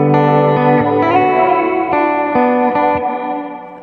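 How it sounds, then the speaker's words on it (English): An electric guitar runs through a Walrus Audio R1 plate reverb with pre-delay added, playing loud sustained chords that ring out with a delayed, spacious wash and a decaying tail, with no voice. "Pre-delay, let's add some pre-delay to this."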